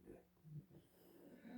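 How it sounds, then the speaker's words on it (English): A man snores softly nearby, with slow, rumbling breaths and a few snorting rasps across a short stretch, faint and low. "You snore, dude."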